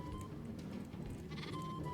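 A sheep in the Minecraft video game giving a couple of clear, close bleats over soft background game sound.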